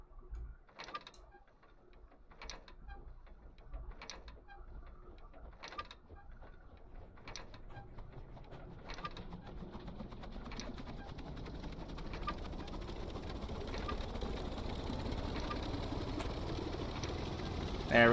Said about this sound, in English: there's a crank. Engine crank